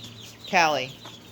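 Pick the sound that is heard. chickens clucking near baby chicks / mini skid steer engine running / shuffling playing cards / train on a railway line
chickens clucking near baby chicks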